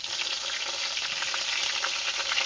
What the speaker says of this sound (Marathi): इकडे आपण आहे ना कारलीमध्ये मसाला भरून घेतो ते कारली घालूया.